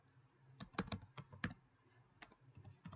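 Quick keystrokes on a computer keyboard while typing into a Chrome browser: a short, uneven run of crisp clicks, fairly quiet and close, with no voices.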